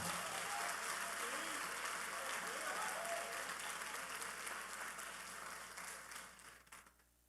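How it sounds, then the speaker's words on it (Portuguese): A church congregation claps loudly and steadily in dense, sustained applause that gradually thins out and fades near the end, with a faint voice briefly audible beneath it. "Se é para ele, aplauda forte"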